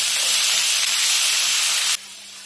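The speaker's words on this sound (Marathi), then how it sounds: "ते तिळ उडायला लागलेत म्हणून मी हे झाकण ठेवलं" Sesame seeds spluttering in hot oil during tempering for raw mango chutney, a loud steady hiss and crackle that cuts off abruptly as a lid goes on.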